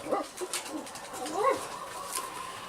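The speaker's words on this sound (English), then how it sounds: "The dogs are going to bark." Several dogs bark and whimper at a distance, with yelping calls rising over a faint outdoor background.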